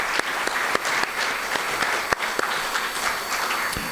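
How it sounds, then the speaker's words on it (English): Audience applause for veterans and first responders at a talk, a continuous crowd clapping with sharper individual claps standing out near the listener, no talking over it. "allow us to give you one well-deserved big round of applause"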